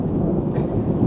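Thunder from a lightning storm: a loud, steady, broad rumble that fills the whole short moment with no break and no talk.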